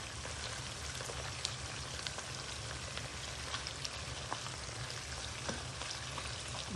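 Chicken pieces for sweet and sour chicken frying in a pan, giving a steady, fairly quiet sizzle with faint crackles and pops throughout, no voices.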